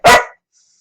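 A single loud, close dog bark, sharp and short, cut off quickly and followed by near silence; the dog wants to be let outside.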